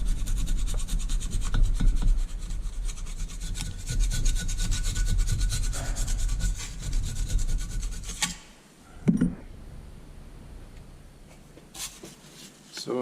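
Rough, rhythmic scraping as carbon is worked off a part from a Detroit 2-53 diesel engine, close and steady for about eight seconds, then a pause with a brief clatter and a few lighter scrapes.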